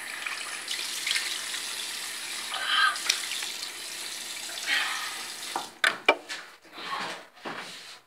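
Tap water runs steadily into a sink during face washing, then gives way to several uneven splashes and drips as water is scooped and splashed at close range.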